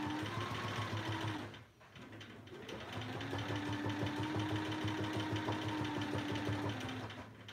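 A sewing machine stitches steadily during free motion quilting on an elephant embroidery, its motor humming and needle chattering close up, with a brief pause before the run resumes at an even pace.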